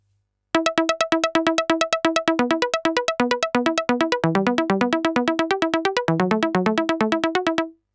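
Arpeggiator running on a Casio PX-S3000 digital piano: a fast, even stream of short, bright repeated notes cycling up and down through chord tones, loud and close, with no talking.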